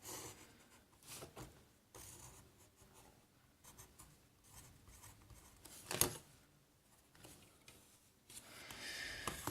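A pencil draws lines along a set square on a T-square during manual drafting, giving faint, close scratchy strokes in short bursts separated by quiet pauses, with light rubbing and handling of the drafting tools.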